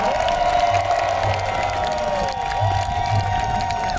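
A crowd claps and cheers for performers and Khao Sam Yot municipal staff after an imagined historical stage show about King Narai at the 2024 King Narai festival, steady applause and shouting under a sustained musical tone.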